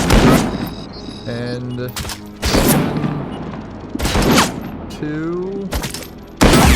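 Enemy snipers and gunfire crack loudly in Robocop Rogue City, sharp repeated shots separated by pauses, mixed with brief electronic game tones and a voice speaking between blasts.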